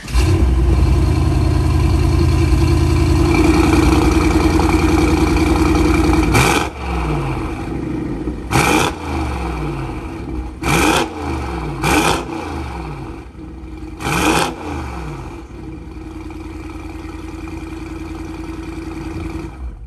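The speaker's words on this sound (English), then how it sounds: "But I'm gonna let y'all hear this exhaust on here before we actually get in and talk about the vehicle." A 900 HP 2021 Mercedes-Benz AMG GT63 at close range: a loud, deep exhaust roar as the engine is held high, then a quieter idle broken by several sharp throttle blips and pops.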